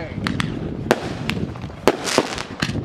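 Backyard fireworks crack and bang in a quick irregular series of sharp explosions, some close and loud, spread over a few seconds with crowd noise and voices between them.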